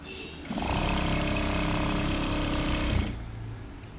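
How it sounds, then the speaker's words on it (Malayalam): Sewing machine stitching a shirt, a steady close mechanical whirr running about two and a half seconds without pause before stopping, with quiet room tone on either side. "അപ്പോൾ നമ്മൾ ഇതും സ്റ്റിച്ച് ചെയ്ത് കഴിഞ്ഞു"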